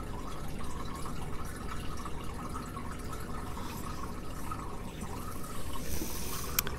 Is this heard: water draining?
yes